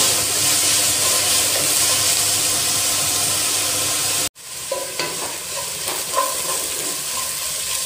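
Onions fry in a pan for a Kerala-style beef curry, a loud steady sizzle with a brief cut, followed by scraping stirring strokes over the continuing hiss.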